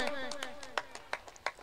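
Crowd clapping at a local cricket tournament match between Chinchpada and Roadpali as a batsman reaches his half-century, a burst of scattered, irregular claps with several sharp louder hits, fairly faint and brief.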